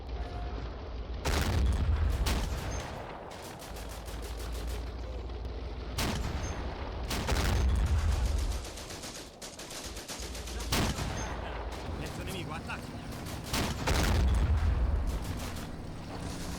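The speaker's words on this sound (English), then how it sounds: "We'll just let our guys continue to shoot." Gunfire and explosions from the war game Combat Mission: Afrika Korps in a desert assault on Sollum: repeated sharp shots and heavy booms every few seconds over a steady rumbling battle backdrop.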